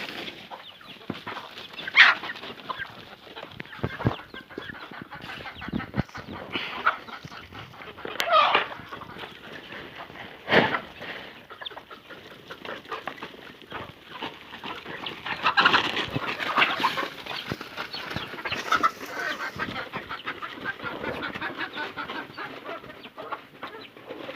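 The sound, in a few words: chickens clucking at feeding time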